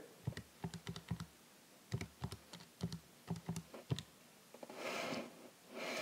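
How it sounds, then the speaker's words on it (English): Fingers tap numbers into a calculator keypad, a quick irregular run of soft plastic clicks in short clusters, faint and close, followed by some brief rustling. "So type that into your calculator."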